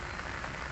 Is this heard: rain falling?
yes